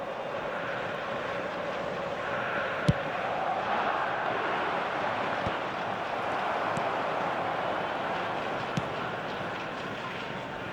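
Stadium crowd noise in the eFootball video game, a broad continuous roar of applause and cheering at moderate loudness, with a few brief sharp clicks.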